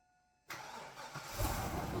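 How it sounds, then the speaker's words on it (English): An 8.1L Vortec V8 in a GMT800 Silverado cranks and fires up after a starter replacement, catching quickly and settling into a rising, steady close-up idle with no talking. "And we'll get our assistant Mike to try and start the truck, and let's see if she starts first try."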